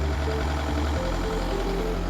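An engine running on biomass gas hums and throbs steadily at close range, its low tone dipping and shifting as the gas valve is adjusted, with no voices over it.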